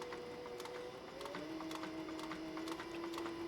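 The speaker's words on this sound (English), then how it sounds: "This is generally about my speed on a sewing machine." A sewing machine stitches leather for a cross-body sling bag with a steady, even, rapid clatter and a rising motor whine, close by and continuous.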